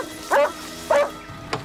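A police dog on a scent track gives two sharp barks about half a second apart, then a shorter, fainter yelp, close by and with no talk over it.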